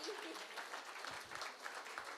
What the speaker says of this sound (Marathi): एकदा जोरात टाळ्यांचा कडकडाट होऊन जाऊ दे.